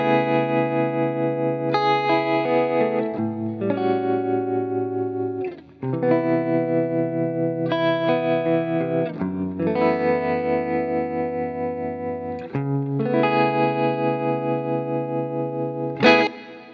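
Clean electric guitar through an Axe-Fx II with chorus gives a dreamy, shimmering tone, sustained chords and picked notes ringing in phrases with brief gaps, loud and close, no voices.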